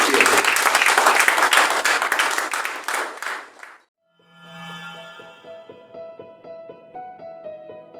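A church congregation claps for the Lord, a dense burst of applause that fades to silence before soft music with a low tone and rhythmic plucked notes begins.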